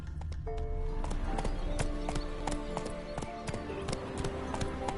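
A horse gallops in The Witcher 3, its hooves striking in a rapid, regular series of sharp, close thuds over an ambient music bed, with no talk.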